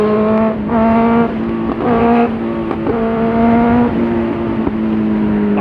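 A Benelli 600i motorcycle engine revs loudly on a ride, its rising and falling pitch repeating in surges with small sharp pops from the exhaust between them, close and continuous.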